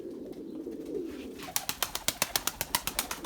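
Pet pigeons coo softly at first, a low murmuring call, then a rapid regular run of sharp clapping beats follows, close by and fairly loud, with no talk.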